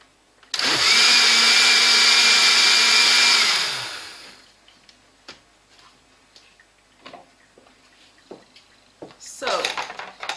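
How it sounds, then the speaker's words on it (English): A kitchen blender purees tomatoes with onions for a sauce, a loud steady whirring roar for about three seconds that then winds down, followed by quieter clicks and clatter of handling. "I'm going to blend my tomatoes with the onions before I start preparing the sauce."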